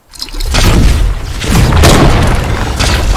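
Loud booming gunshots from a video game firefight, a few heavy blasts spread across the moment with a dense rumbling tail between them.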